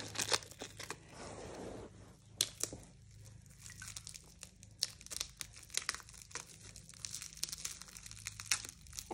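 Plastic wrap being snipped and peeled off a knee with dull scissors, producing soft, close crinkling and tearing rustles in irregular bursts, faint overall.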